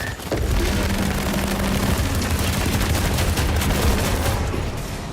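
Cannon and gunfire in the sci-fi shooter The Expanse: Osiris Reborn, with a dense, unbroken roar of shots and blasts that stays loud and constant throughout.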